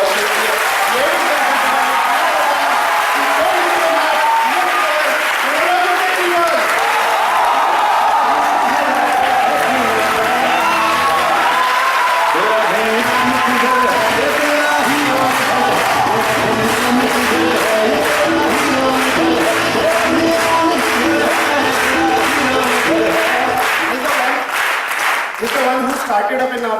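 A large audience claps thunderously in a steady roar, with voices and cheers mixed in throughout and rhythmic clapping emerging toward the end.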